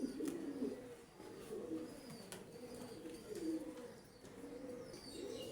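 A male pigeon cooing repeatedly in a steady, throaty rolling rhythm, close and fairly quiet, with faint chirps from other birds in the background.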